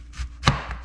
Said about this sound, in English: we're gonna start with this white onion, and we're gonna get a nice big thick cut off of it